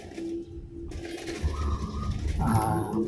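A zebra dove (perkutut) coos in soft, repeated low notes against a steady noisy background.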